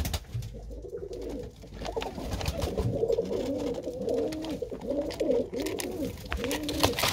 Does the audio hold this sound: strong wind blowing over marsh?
no